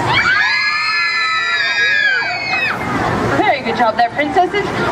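Children at a play scream at a dragon, a loud chorus of high shrieks held for a couple of seconds before breaking into excited crowd noise and scattered shouts.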